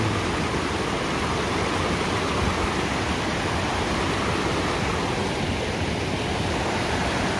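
Mountain river rushing along a hiking trail near Lac de Graveirette, a steady, loud broadband roar of churning water close by, unbroken and without voices.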